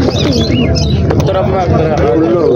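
Pigeons coo in a crowded bird market, a dense layer of low throaty cooing and chirps, with people talking loudly nearby throughout.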